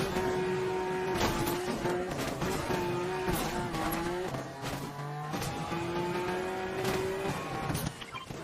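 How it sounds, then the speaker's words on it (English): A car drives in the Fortnite battle royale game, its engine holding a steady droning pitch that dips and rises with gear changes, with occasional tire squeals over a busy, continuous game soundscape. "I did get into the car simply for the fact that Storm was right behind me."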